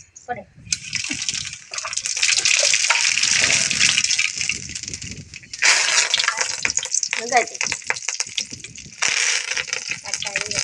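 Mustard seeds hit hot oil in a pan, bursting into loud crackling sizzles and spattering pops in waves close by, with voices talking briefly underneath.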